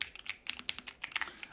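A Keychron Q6 Max keyboard with banana switches clacks under fast fingers, about a dozen close, clean keypresses in a short irregular burst, alone without any talk.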